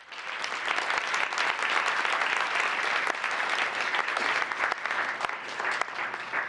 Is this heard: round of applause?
yes